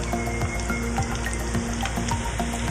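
Chicken mince donuts frying gently in oil over low heat give a steady, soft sizzle with small popping bubbles, close and continuous, with no voices.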